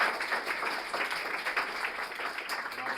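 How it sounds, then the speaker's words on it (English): Audience at a talk applauding the speaker, a moderately distant, steady wash of many hands clapping that holds throughout, faint and with a few voices underneath. "let's give Janna another round of applause"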